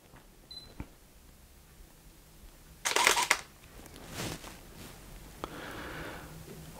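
A camera firing a Cobra flash in TTL mode in a studio: a single sharp shutter-and-flash burst stands out near the middle, followed by fainter clicks and handling noise in an otherwise quiet room.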